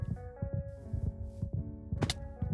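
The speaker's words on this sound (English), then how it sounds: "His heartbeat's gonna be very loud." Loud, steady heartbeat thumps in Minecraft pulse low and repeatedly, about two per second, under sustained, tonal game music, with a brighter burst near the end.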